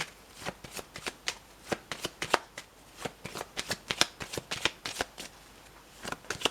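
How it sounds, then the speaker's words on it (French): Tarot cards shuffled by hand: a close, steady run of crisp riffling bursts and soft slaps, repeating at a quick rhythm with no talking. "On va regarder quelques cartes."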